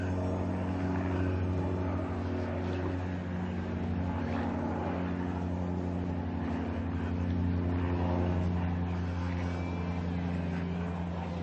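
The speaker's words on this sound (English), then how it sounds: "Another plane taking off. Not too far from the airport." A small plane taking off near Anacortes airport by the harbor makes a steady, loud propeller-engine drone that holds throughout without a break.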